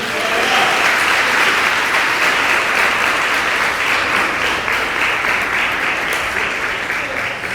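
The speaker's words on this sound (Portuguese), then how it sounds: "Dá um aplauso ao Senhor Jesus." A church congregation applauds during a service. The clapping is loud, dense and sustained, a wash of many hands that runs throughout with only slight fading at the end.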